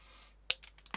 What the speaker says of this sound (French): je prends une petite paire de ciseaux, je viens couper la partie métallique